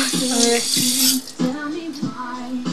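Tap water runs and splashes in bursts while hands rub beneath it, close and fairly loud, with a few brief interruptions in the flow.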